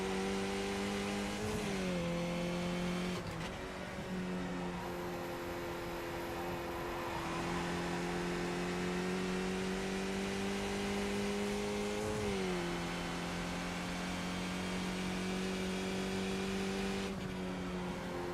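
Skip Barber race car engine in iRacing, a sustained whining drone held at near-constant pitch with brief dips and shifts, loud and continuous with no talk over it.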